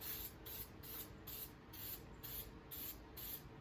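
A spray paint can fires about eight short, even hissing bursts in a steady rhythm, close by, during cowl repair on a 1966 Mustang.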